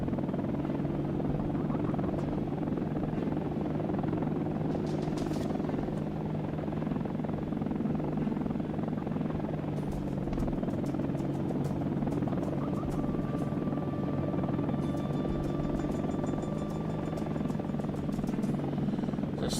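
A military Hind attack helicopter in the Air Missions: HIND flight game drones steadily with a loud, continuous rotor and engine hum that stays even throughout, with no talking.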